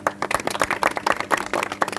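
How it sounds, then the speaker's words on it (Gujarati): An audience at a public gathering breaks into collective applause, with dense, steady clapping from many hands at moderate distance. "આપણે સામૂહિક તાળીઓથી એને વધાવી લઈએ"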